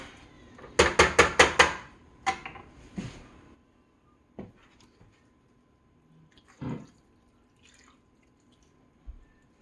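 Water splashes into a pan of hamburger pie filling on a stove over medium heat in a quick run of bursts, followed by a few scattered clinks and knocks in a quiet kitchen.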